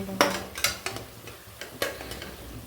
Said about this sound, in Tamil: இன்னும் கொஞ்சம் நேரம் வதங்கணும்